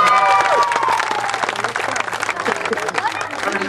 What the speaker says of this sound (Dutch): Korte applaus graag, de winnaar van de verliezerspoel,